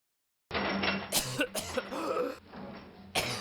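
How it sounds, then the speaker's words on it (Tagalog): Several wet, rattling coughs in close succession, loud and near, with a chesty phlegmy quality and brief gaps between bursts, in a tuberculosis health reminder. "may plema ang imong ubo"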